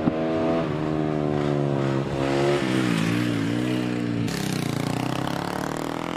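A 1939 Velocette motorcycle pulling away off the start line at a hill climb, its single engine revving hard and rising in pitch through several gear changes, loud and close, then easing as it pulls away.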